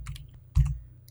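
A couple of soft key clicks on a computer keyboard, close and quiet, with a slightly heavier keystroke in the middle of a short burst of typing.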